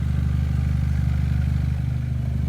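Car engine idling with exhaust running, near and steady with a low rhythmic throb, during a head gasket combustion leak test.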